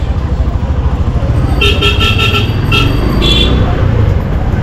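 Car horns honking in a traffic jam on a busy Dhanmondi road in Dhaka, several short toots in a cluster and a later pair over a constant engine and traffic rumble.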